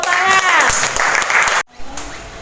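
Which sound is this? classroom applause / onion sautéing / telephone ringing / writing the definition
classroom applause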